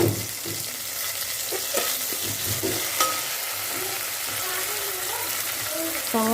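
Chopped tomatoes with a little salt cook in a pan for potato tomato sambar, producing a steady, close sizzle and bubbling hiss with occasional stirring scrapes throughout.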